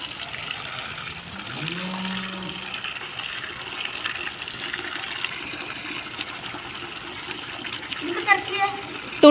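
A clay pot fills from a running stream of water that pours steadily throughout, with voices talking over it and a few clinks near the end.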